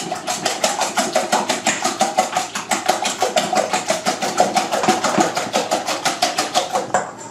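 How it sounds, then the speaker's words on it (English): Eggs being whisked in a bowl for a crustless quiche, producing fast, evenly spaced clicking and tapping strokes that repeat steadily for several seconds with no voices. "we're going to give it a little bit of a whisk"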